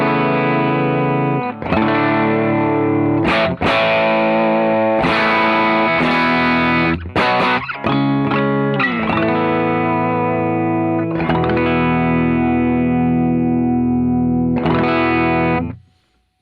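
An electric guitar plays through a Coppersound Foxcatcher overdrive pedal, giving a driven, sustained tone with bright upper harmonics; picked chords and single notes ring with sharp attacks, then the sound cuts off at the end.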